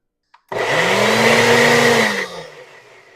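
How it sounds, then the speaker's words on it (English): A small blender purees pineapple with one loud, steady whirring burst of about two seconds, then winds down to a fading hum, close to the listener with no talking. "So I'm just going to try to puree this pineapple to give it that crushed feel."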